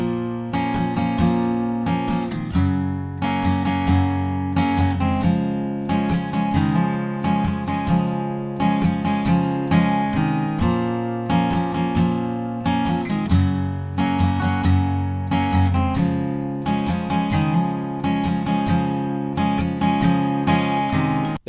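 Acoustic guitar strums the looped verse of a song, steady repeated down-and-up strum patterns with ringing chords, close and even in volume, no voices.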